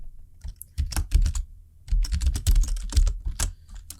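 Quick bursts of key clicks on a computer keyboard as a password is typed, close and crisp, two clusters split by a short pause, no voices.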